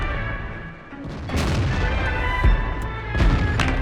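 Tank cannon fire in a tank combat video game: heavy booming shots land one after another, with a couple of strong blasts standing out from a steady rumble of battle noise.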